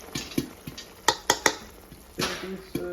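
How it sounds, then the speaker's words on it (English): Spoon clinks and scrapes against a pan while baking soda is stirred into hot caramel for caramel popcorn, with sharp metallic taps in an uneven rhythm over a soft background hiss. "Baking soda, we'll stir."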